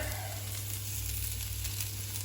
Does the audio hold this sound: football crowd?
no